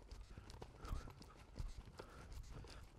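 Horse hooves canter through a show-jumping pole exercise, a steady three-beat clip-clop on soft ground, moderately close, with a faint snort between strides and no talk.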